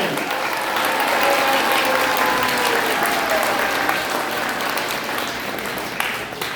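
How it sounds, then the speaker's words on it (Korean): At a church-affiliated gathering, a large indoor audience gives Pastor Jeon Yong-hoon a loud, sustained round of applause, thick continuous clapping that holds at full strength from start to finish. "우리 전용훈 목사님을 위해서 큰 박수 한번 해주시기 바랍니다"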